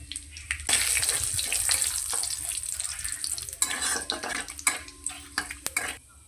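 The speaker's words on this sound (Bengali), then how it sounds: "ফোড়নে দেবো একটা তেজপাতা একটা শুকনো লঙ্কা আর দেবো অল্প একটু গোটা জিরে" A bay leaf, a dried red chili and whole cumin seeds frying in hot mustard oil: a loud, bursting sizzle close by, then easing into crackles and stirring scrapes with a few clinks, and no talking.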